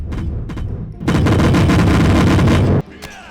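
A burst of gunfire in a video game: scattered shots at first, then a dense, loud, continuous rattling volley lasting nearly two seconds before it stops sharply.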